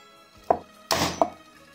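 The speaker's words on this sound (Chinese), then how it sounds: "洗净后把骨头从中间敲断" Washed bones for soup are knocked apart through the middle with three separate, sharp thunks close by, the middle one heavier and longer, with quiet between them.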